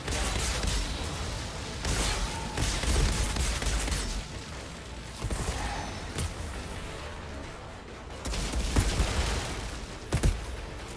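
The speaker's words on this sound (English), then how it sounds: "Oh, there's a lot of explosions here." Repeated bursts of gunfire and booming blasts in the video game Outriders, loud and close, with sharp cracks and whooshes in a chaotic battle scene.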